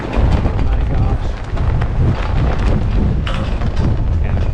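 Loud, gusty Newfoundland windstorm buffets the microphone on a BMW K1600GTL motorcycle tour in continuous roaring bursts, close and harsh throughout.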